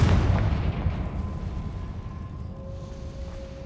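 A Confringo fire spell bursts in Hogwarts Legacy, a loud booming blast that rumbles and slowly fades, trailing into a thin tonal ring near the end.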